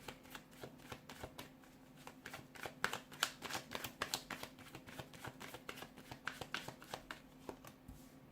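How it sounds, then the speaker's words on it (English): Tarot cards shuffled steadily by hand, a quick run of soft riffling flicks and taps up close, continuing without pause and with no talking. "give the cards a shuffle, and let's begin."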